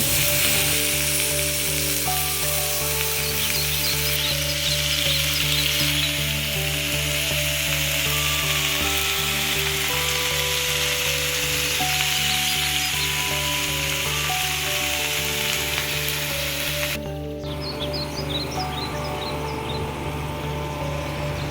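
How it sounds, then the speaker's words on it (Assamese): Cut pieces of shol fish fry with masala in a pan, a continuous loud sizzle and crackle running close throughout, with occasional stirring scrapes and no talking. "এতিয়া কাটি থোৱা শ'ল মাছখিনি দি কিনি এনেকুৱাকৈ মছলাৰ সৈতে আকৌ ভালদৰে ভাজি ল'ম"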